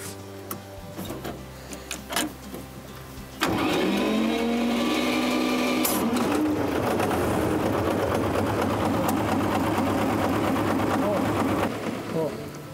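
An old electric motor driving a circular saw starts up after some talk and clatter, then runs with a steady loud hum and rattling whine for most of the clip while someone talks over it.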